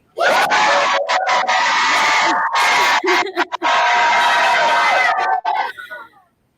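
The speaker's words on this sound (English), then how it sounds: "getting a big cheer from everyone in our schools all the way across Canada" Large crowd of school students across Canada cheering together, a loud sustained roar of screams and whoops that breaks briefly, surges again, then fades out.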